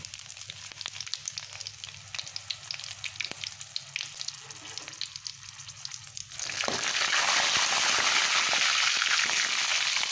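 Whole dried chillies drop into hot oil for an egg curry, with quiet crackling and ticking that bursts into a loud, dense, steady sizzle partway through and then holds.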